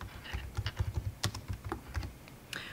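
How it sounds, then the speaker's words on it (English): Fast, uneven typing on a computer keyboard, close and alone, with clustered key clacks and a few louder strikes like the space bar. "Begin typing."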